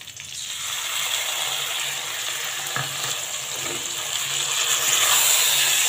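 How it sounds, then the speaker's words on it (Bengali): Flat beans frying with salt as spice paste is added to the pan, a steady close sizzle that swells slightly louder near the end, with faint stirring scrapes underneath. "শিমের মধ্যে নুন দিয়ে কিছুক্ষণ ভেজে নিয়েছি, এবার আমি এই মশলাটা দিয়ে দেব।"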